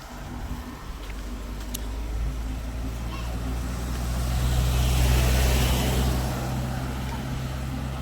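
Cars and trucks, mostly Ford and Isuzu vehicles, roll along a road on Praslin in the Seychelles, a low rumble swelling as one passes close and fading away, with a voice talking over the traffic.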